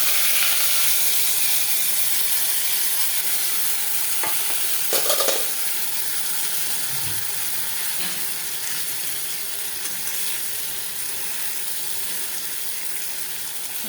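Raw hilsa fish pieces fry in a pan, a steady close sizzle with spatula stirring and a few scraping clinks partway through, no talking.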